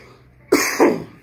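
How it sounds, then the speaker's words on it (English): A single person's cough, a close, loud double burst with a short rough onset followed by a second hacking push, set against a quiet background while recovering from a lingering cough after a night camping in a tent. "I'm still getting over this cough."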